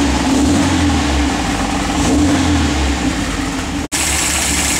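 A 1967 MGB engine idles steadily while warming up, a loud, continuous low rumble that holds even throughout, broken only by one brief dropout near the end.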